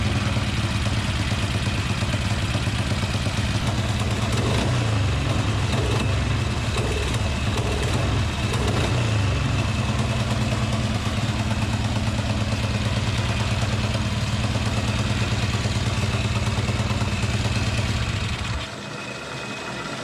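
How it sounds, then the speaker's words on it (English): A small engine fitted with a Tillotson 263 28mm flat slide carburetor idles steadily after tuning, giving a loud even rumble with light clatter that runs unbroken for about eighteen seconds before dropping away at the end. "All right, so now we have a really good idle."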